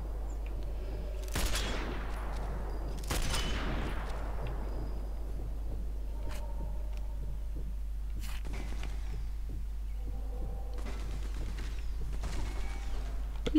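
Sniper Elite 4 video game gunfire on the Regilino Viaduct level: a few loud, sharp rifle cracks with long decaying echoes, separated by quiet gaps, then scattered fainter shots later, with little talk.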